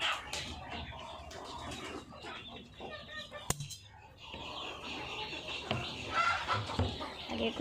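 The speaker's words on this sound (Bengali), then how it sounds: "দেখতে পাচ্ছেন সব কবুতর মুরগি কিভাবে আসছে।" Chickens and pigeons cluck and call in a busy, continuous chorus at a poultry farm in Bangladesh during feeding, with scattered wingbeats and a sharp knock midway, while a person speaks faintly in the background.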